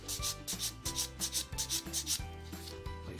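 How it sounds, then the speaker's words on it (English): A flat sanding stick rubs back and forth over the ends of a 1/35 plastic model MkIV tank hull, a close, rhythmic rasping stroke repeated about a dozen times with no talk. "now I'm just going to take a flat sanding stick"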